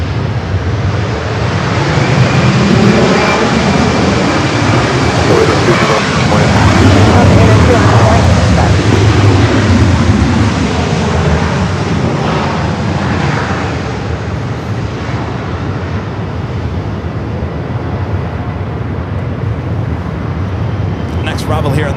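A jet airliner takes off at LAX, a loud sustained engine roar that swells and slowly fades over about twenty seconds, heard outdoors with wind noise.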